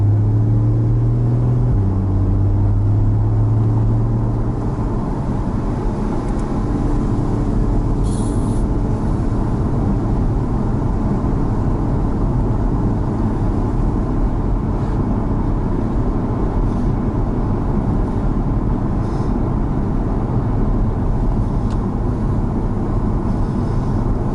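Porsche 981 Cayman GTS cruising on the road, a loud constant engine drone and tyre rumble heard from inside the cabin, with a low droning tone in the first few seconds.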